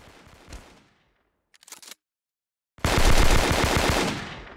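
Gunfire in the first-person shooter game Kuboom: a couple of brief isolated shots, a short silence, then a loud sustained burst of rapid automatic fire lasting over a second.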